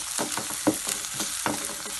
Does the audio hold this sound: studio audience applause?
no